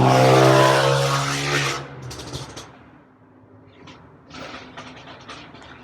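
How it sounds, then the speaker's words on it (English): A loud mechanical engine roar fills the first two seconds, then cuts off, followed by quieter clattering and whirring bursts nearby. "That's a really loud engine."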